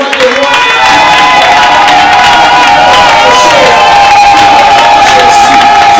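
A church congregation cheers and acclaims at full volume, a dense sustained roar of shouting and whooping voices filling a large space without pause.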